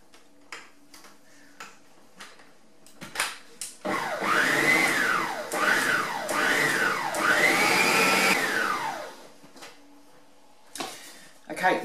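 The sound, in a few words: beating cookie dough with an electric mixer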